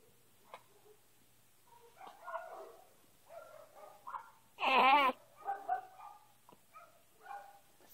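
A dog barks and whimpers indoors in a home with a small child, giving one loud, sharp burst of barking and yelping in the middle amid softer scattered vocal sounds and quiet room noise.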